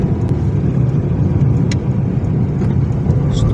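A car drives along a road on the way to Sterlitamak, its steady engine and tyre rumble filling the cabin loudly and evenly from start to finish, with no talking.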